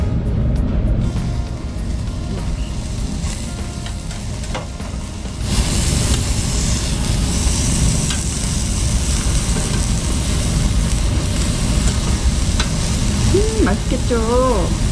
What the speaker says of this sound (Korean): 노릇노릇하게 구워야 됩니다